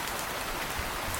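Dense, steady cartoon rain falls over a forest, a continuous hiss of many drops with no gaps, heard alone for about a second.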